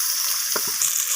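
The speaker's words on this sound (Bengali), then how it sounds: "তো এই মাছটাকেও আমি একইভাবে লালচে করে ভেজে নেব দু পিস।" Rohu fish pieces frying in a pan, a steady hiss of hot oil running throughout with a couple of soft low knocks midway, close and alone.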